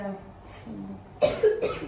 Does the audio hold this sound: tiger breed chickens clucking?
no